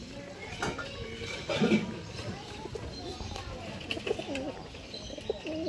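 Madrasi pigeons of a breeding pair coo softly in low, repeated throaty phrases, fairly close and quiet, with a voice speaking over them and faint clatter in the background.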